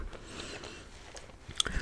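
Soft, close chewing gum sounds: moist smacks and small clicks in an irregular rhythm over a quiet hiss, with a brighter crisp snap near the end, in a whispered ASMR setting.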